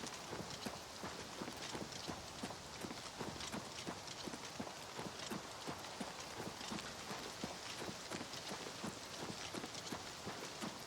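Rapid, steady hoof clip-clops from a horse in the video game The Elder Scrolls IV: Oblivion Remastered, a continuous rhythmic clatter at even pace, clear and close with no talking.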